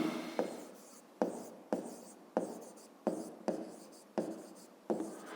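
Pen strokes writing a maths solution on paper: a series of about eight short scratchy strokes in a regular rhythm, close and fairly quiet, with no talk.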